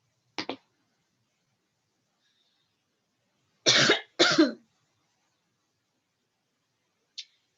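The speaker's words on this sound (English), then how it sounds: "Excuse my coughing fit." A few sharp coughs in quiet surroundings: a short pair first, then two harder coughs together, and one faint brief cough at the end.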